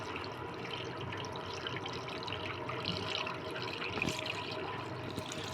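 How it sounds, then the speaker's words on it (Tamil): Tamarind water is poured into a pan of vegetable and dried-fish curry, a quiet continuous liquid splash and trickle heard close up, with a brief louder splash near the end. "புளி தண்ணி ஊற்றிக்கலாம்."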